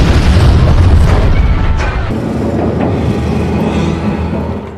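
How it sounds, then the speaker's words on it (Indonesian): A loud, deep dynamite explosion on a bridge booms and rumbles, with a long roaring tail that slowly fades over several seconds. "dia pun langsung memegang dinamit itu dan meledak bersama-sama dengan para kanibal"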